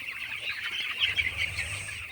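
Twelve-day-old chickens on a poultry farm make a steady, busy chorus of soft clucks and chirps, fairly close and continuous, with no talking over it.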